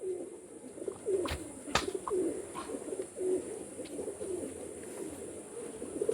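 Teddy pigeons kept for sale in Kolkata coo softly and repeatedly, close by. A few sharp clicks and cage rustles sound among the low, throaty coos.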